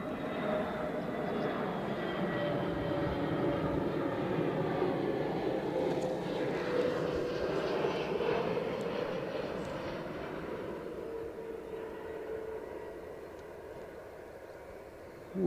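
An airliner landing on Runway 06 at Edinburgh Airport, heard from a mound beside the field as a steady engine roar and rushing whine that slowly fades over about fifteen seconds, moderately loud and distant.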